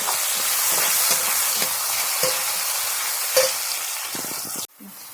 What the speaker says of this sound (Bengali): বেগুন, আলু, টমেটো কাটা আছে, এর মধ্যে কড়ার মধ্যে দিয়ে দেবো। একটু লাল লাল হোক।